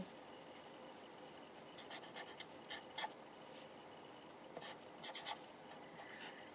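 Quiet scratchy strokes of a pen writing out a math formula come in short irregular bursts with pauses between them, faint and close.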